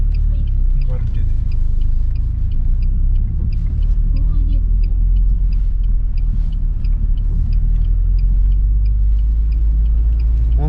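A KamAZ truck on a snowy road, stuck after trying to turn, rumbles in a steady low drone with one wheel spinning in place, heard close and loud over constant wind-like noise.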